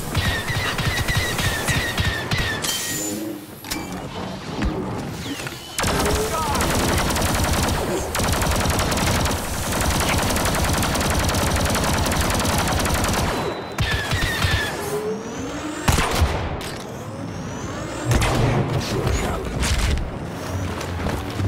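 Video game combat with loud, dense bursts of rapid gunfire and booming explosions, broken by brief lulls before the shooting resumes.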